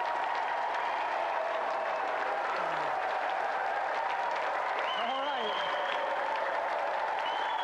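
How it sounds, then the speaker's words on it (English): Studio audience applause on a televised video game show, a steady wash of clapping and crowd noise throughout, with some faint voices mixed in. "Round of applause for E17."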